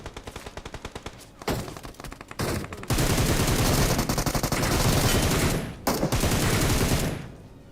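UMP submachine gun fire in the PUBG video game: rapid bursts of automatic shots, first sparse and rhythmic, then long dense sustained fusillades with brief gaps, loud and close.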